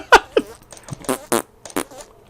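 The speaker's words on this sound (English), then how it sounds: "It's just nothing but fart sounds." A quick run of comic fart sounds from a bunker-building video game, roughly six short loud bursts of uneven length packed into a couple of seconds, with a brief low grunt among them.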